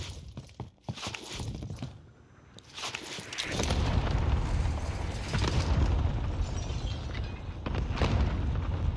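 Airstrike explosions in the Godzilla vs Kong game Operation Monarch: after a few quieter seconds, a loud, sustained wall of rumbling blasts sets in close by and keeps roaring to the end.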